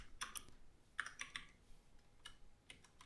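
Quiet keyboard typing in short clustered bursts of clicky keystrokes, close and faint, during coding, with brief pauses between runs.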